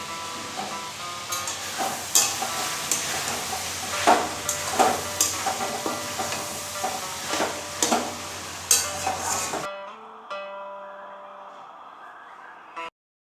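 Mutton fries in a pan and is stirred, with rhythmic scraping strokes over a steady loud sizzle. Near the end the frying stops and soft tonal background sound takes over.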